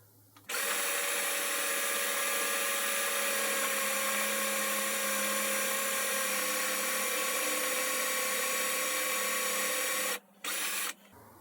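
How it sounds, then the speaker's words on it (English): A power drill with a chuck on an inner bar runs against a metal part, giving a steady, loud, high whine for about ten seconds that cuts out briefly, restarts, then stops. "Push your drill up to the part."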